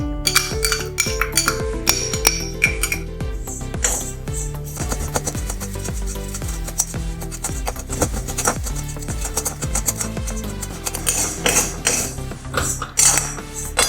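Coriander dal dry-roasted in a pan, heard as rapid, rhythmic rattling and scraping of the seeds and a spoon against metal, close and continuous over a tonal background.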